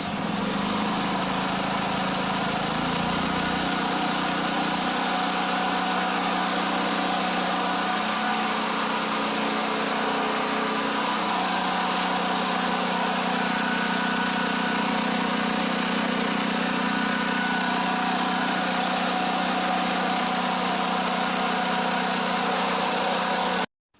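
A gasoline generator, started after long storage and leaking fuel, catches and settles into a steady, loud idle; its engine note shifts early on, then drones evenly until it suddenly cuts off at the end.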